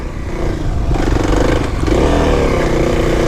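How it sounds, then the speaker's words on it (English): A 2021 Kawasaki KLX300 dirt bike revs hard in second gear with the throttle pinned as it climbs a steep off-road hill. The engine drones loudly and steadily, rising in pitch, with rattling clatter and no voices. "Second gear, second gear, second gear. Keep the throttle pinned. First hill, here we come."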